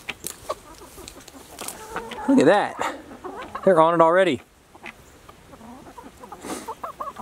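Chickens clucking and pecking at a waterer in a backyard flock, short clucks and squawks between stretches of close conversation.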